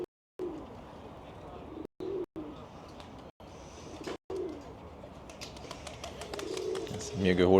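Pigeons coo in a Tashkent park, soft repeated low calls coming and going at moderate distance, with talking, brief dropouts and a rising chirp near the end.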